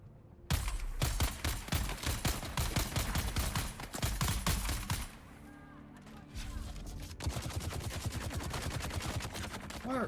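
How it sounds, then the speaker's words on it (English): Rapid gunfire rattles in the video game Dune: Awakening, with dense bursts of automatic shots, a short lull, then another sustained volley, loud and close. "Where's that gunfire coming from?"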